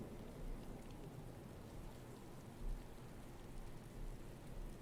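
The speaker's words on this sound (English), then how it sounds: "Overlord cruising across as the rain comes down here on New Repugnancy" Steady rain falling on a StarCraft map, New Repugnancy, in a video game, a soft continuous hiss at low level with no talk.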